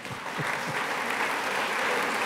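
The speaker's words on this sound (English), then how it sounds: "that's an applause line here now" An audience at the Texas Tribune Festival bursts into applause, a loud, dense clatter of clapping that holds steady for a couple of seconds.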